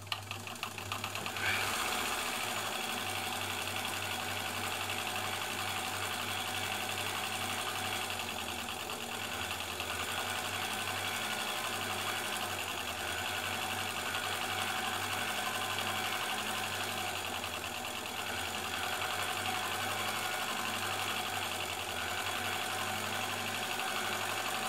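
An ELNA Supermatic sewing machine stitches embroidery with a continuous, even mechanical hum and rapid needle chatter. It starts after a brief pause and then runs steadily and close, without talk.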